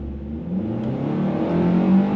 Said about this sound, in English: Very loud engine noise,